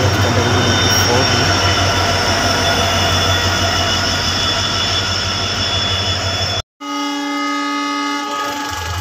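An Indian Railways train hauled by an LDH-shed WDP4D diesel locomotive, the Rishikesh–Sri Ganganagar Express, gives a loud, steady rumble of engine and wheels, broken briefly by a sudden cut before a sustained horn-like tone with a voice faintly under it.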